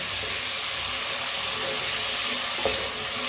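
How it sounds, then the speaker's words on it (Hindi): Finely chopped tomatoes fry in a pan for a turnip and potato curry, a continuous close sizzle and hiss with a brief stir near the end. "टमाटर को भी 2 मिनट के लिए पका लेंगे"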